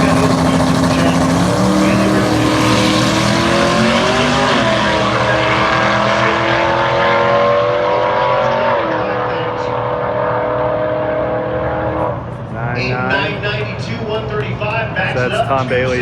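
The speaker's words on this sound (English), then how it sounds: "So that's Tom Bailey's son driving that." A race car at Rocky Mountain Race Week roars loudly past at high speed, its engine pitch sliding down as it pulls away, then another burst of revving engine noise follows.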